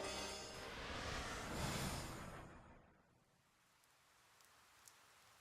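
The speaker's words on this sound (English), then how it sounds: "The rain won't let up." Rain pours as a dense, loud hiss in the video game 428: Shibuya Scramble, then drops away about halfway to a quiet patter with a few isolated drips.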